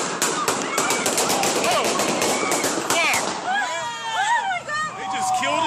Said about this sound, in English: Officers opened fire, shooting 26 rounds